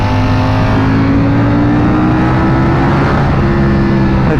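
Ducati Panigale V4 motorcycle accelerating hard on track, a loud steady engine roar with rising tonal whine held close throughout, no voices.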